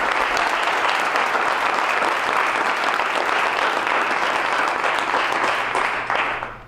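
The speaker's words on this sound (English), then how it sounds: "can we have one more final round of applause for our 2015 National Manager of the Year Award winners?" Sustained, dense applause from an audience at the 2015 National Manager of the Year Awards ceremony, loud and steady for several seconds before easing off at the end, with no talk over it.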